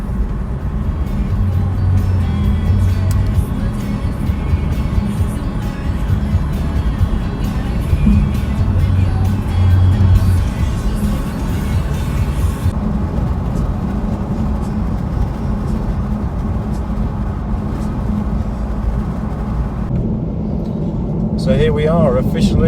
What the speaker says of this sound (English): Driving to Dunkirk.